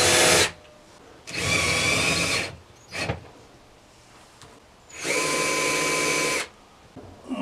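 A power drill drives screws while building a portable generator enclosure: three loud, close bursts of motor whine, two long and one brief, with quiet pauses between them.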